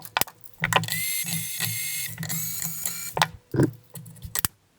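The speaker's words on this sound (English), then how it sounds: "It's really important to loosen the strings off before you cut the strings." Tuners on a Gibson Les Paul Studio guitar are turned to slacken the strings, giving close ratcheting, clicking gear sounds with a ringing string drone and a few sharp knocks.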